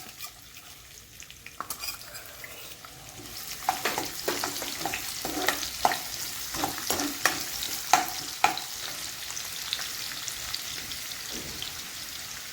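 Sliced onion hisses in hot oil with cumin seeds in a kadhai, the sizzle swelling after a quiet start, with frequent stirring scrapes and light clatter, fairly close and moderately loud.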